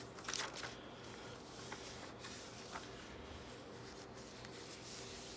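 Soft rubbing and creasing of paper as a sheet is folded into a handmade journal, quiet papery swishes with a brief louder crinkle near the start.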